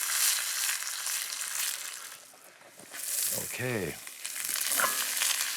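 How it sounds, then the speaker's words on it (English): Pine nuts browning in hot olive oil in a very hot pan, a soft crackling sizzle under a man's speech, with a brief swooping tonal sound in the middle. "I want to brown those pignole nuts in this"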